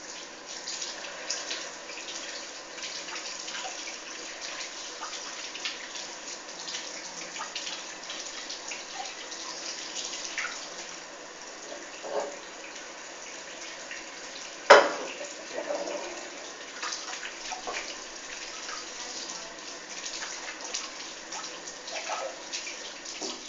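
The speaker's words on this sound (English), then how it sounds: "let me just wash the olive oil off your hands." A kitchen tap runs while olive oil is washed off hands, giving a steady, faint water hiss with small splashes and one sharp knock partway through.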